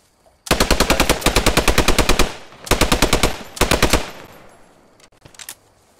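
Machine gun fire in the video game Post Scriptum comes in three loud sustained bursts, a long one followed by two shorter ones, with a few faint scattered shots trailing after.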